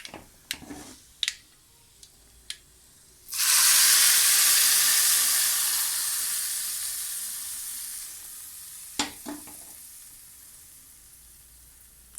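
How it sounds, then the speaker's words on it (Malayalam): Mustard seeds, with fenugreek, hit hot oil for a curry tempering: a few sharp clicks, then a sudden loud hissing sizzle that slowly fades over several seconds, with scattered pops before and after. "ഇനി കടുക് വറുത്തിട്ടുണ്ട്."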